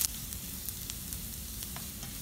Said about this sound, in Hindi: अब मैं इसमें अपने जिंजर डाल रही हूँ। जिंजर को हम हल्का सा सॉटे करेंगे